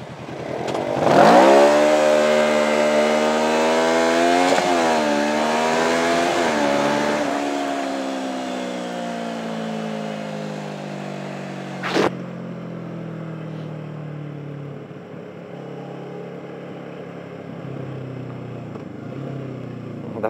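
A loud car engine on the road in Hsinchu revs high and then winds down as it shifts gears without the clutch, with a sharp click midway and the engine droning on afterward.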